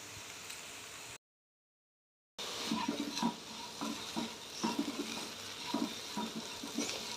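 Diced potatoes frying in a pan are stirred, giving a soft steady sizzle with repeated scraping and clatter of the spoon; a short gap of silence breaks the sound before stirring resumes, busier and nearer.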